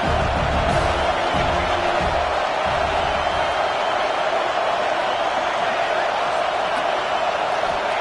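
A loud football stadium crowd roars in a steady, dense wall of noise, with a commentator speaking over it.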